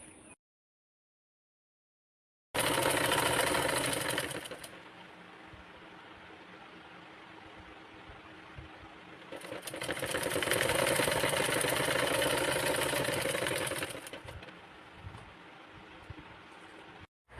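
A sewing machine stitching along the folded edge of blouse fabric, a steady whirring hum with rapid needle chatter in two loud runs separated by a quieter gap, heard close up.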